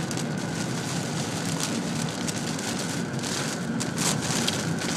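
Heavy storm rain pours steadily onto a car windshield as a weather front moves in, a dense, continuous hiss close by with no pauses and no talking.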